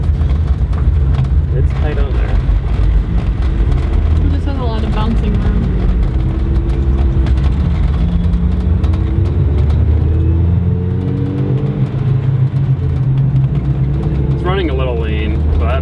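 A supercharged, lifted Mazda Miata being driven: a loud, steady engine drone and road rumble fill the cabin throughout, with rising and falling engine pitch and people talking over it.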